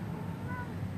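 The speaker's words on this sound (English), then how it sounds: "sorry about the cat" A house cat meows once, faintly, under a steady background hum.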